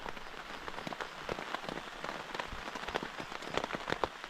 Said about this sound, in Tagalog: At ngayon na umaatake yung ulan na dire-diretso